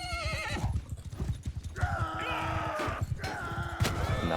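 Horses in a video game battle neigh and whinny repeatedly over rapid, rhythmic clip-clop galloping and combat clatter, several shrill calls rising out of the dense hoofbeats at moderate loudness.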